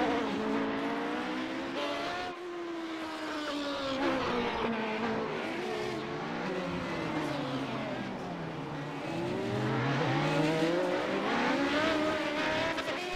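A race car engine revs and drones continuously with shifting pitch in a racing video game, sliding into oversteer out of a corner at Long Beach, with a faint tire squeal under steady loud engine noise.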